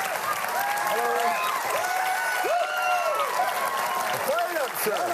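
A studio audience at a talk show claps and cheers loudly and continuously to welcome a guest, the dense applause filling the room with a few whoops rising above it.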